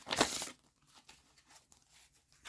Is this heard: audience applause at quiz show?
no